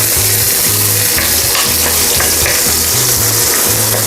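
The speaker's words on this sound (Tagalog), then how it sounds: "So, gisa na po natin ang ating sibuyas." Chopped onions fry in hot cooking oil with a loud, dense sizzle and crackle that goes on without a break, alongside a low pulsing hum, in a home kitchen preparing chicken gizzards.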